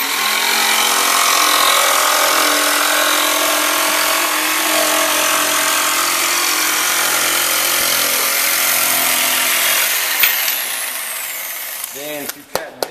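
A power saw cuts through a longboard skate deck with a loud, steady whining drone that holds for about ten seconds, then winds down with a few clunks at the end.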